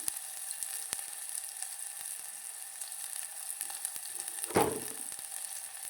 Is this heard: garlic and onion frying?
yes